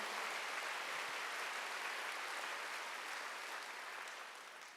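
A church congregation applauds during a Sunday worship service: a faint, distant, even wash of many hands clapping that slowly fades toward the end.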